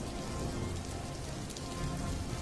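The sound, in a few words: heavy rain pouring down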